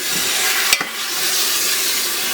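Meat for sancocho sizzles steadily in a hot pot while being browned, a loud continuous frying hiss broken by one sharp stirring clank near the start.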